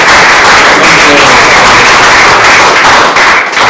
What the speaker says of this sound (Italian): va assolutamente un applauso a loro